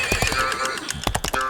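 A horse neighs in a loud, wavering whinny, with quick clip-clop hoofbeats in short bursts close by, lasting under two seconds with no talking.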